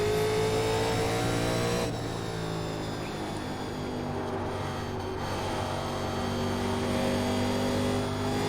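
A 1987 NASCAR Legends stock car at Bristol in iRacing, engine droning loud and steady on throttle with a sustained harmonic whine, a brief lift near two seconds, then pulling hard again without pause.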